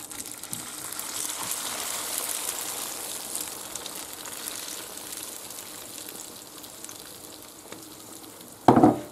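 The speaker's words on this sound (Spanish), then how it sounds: "Ya está caliente el aceite y ahora echamos" Tortilla mixture for a country-style Spanish omelette sizzling in hot olive oil in a pan, a steady close frying hiss with a brief louder clatter near the end and no voices.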